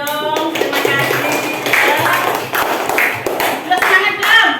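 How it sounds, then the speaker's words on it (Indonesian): A class of primary-school children claps together in a classroom, a dense patter of hand claps running throughout with children's voices chattering over it. "Nah, tepuk tangan dulu dong."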